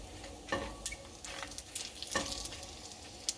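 Whole spices (a cinnamon stick, cumin seeds and three or four dried red chillies) crackle and sizzle in hot oil, with a soft steady hiss and a few brief stirring clinks, fairly quiet and close.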